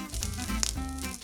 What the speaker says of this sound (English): Let's go in with the sliced onions